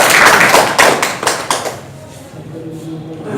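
Audience applause greets a guest at a Human Rights Day summit, with a burst of loud clapping at first that thins and fades over a few seconds, leaving a quiet hall.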